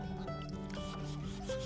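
Steady, close scrubbing and rubbing to strip a furniture finish, a soft rasping texture with faint tonal hum underneath.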